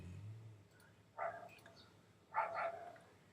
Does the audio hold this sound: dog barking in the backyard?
yes